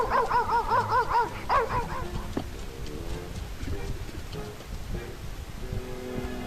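A big dog barks and yips a few times in a children's story about the ugly duckling, the harmonic barks clustered near the start and fading into quieter background afterward, with no talking over them.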